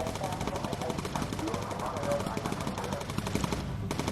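Rapid, continuous machine gun fire from bomber gunners in the video game Bomber Crew, dense and steady throughout with engine drone beneath and a voice talking over it.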